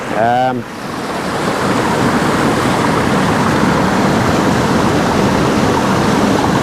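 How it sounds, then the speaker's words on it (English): A steady, dense roar of a rushing waterfall in Kenting, southern Taiwan, fills the whole clip, loud and close, with a brief tonal warble at the very start. "back to that ferocious waterfall there"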